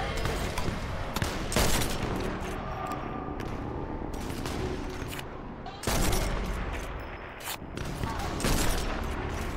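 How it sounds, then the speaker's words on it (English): Repeated gunfire in the Sniper Elite 4 co-op survival game on a facility map, dense bursts and sharp shots crackling loudly in rapid volleys with brief lulls between them. "Someone's shooting at someone."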